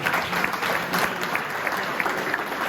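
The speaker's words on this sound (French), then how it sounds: "on peut encore les applaudir." Audience applause at an election-results gathering in Aulnay-sous-Bois, a steady continuous clapping from a crowd, moderately distant and even throughout.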